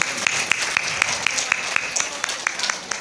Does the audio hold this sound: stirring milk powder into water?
no